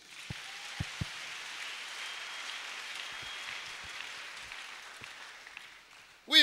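A church congregation applauds in a steady, moderately faint patter of many hands. A few louder knocks sound near the start, and a voice breaks in at the very end.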